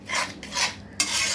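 Dal with bottle gourd greens being stirred and cooked down in a pan: a few scraping, rustling strokes rising and falling in quick succession, close up and fairly loud, with no voices.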